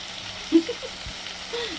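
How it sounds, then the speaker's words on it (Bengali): Prawns frying in hot oil for a taro-leaf (kochu shak) dish: a soft, steady sizzle close by, with a few light clinks and thumps from stirring. "তেলে করলেই তো লাল হয়ে যায় তো ভালো করে ভেজে নেবে দেখো সমস্ত ভাজা হয়ে গেছে"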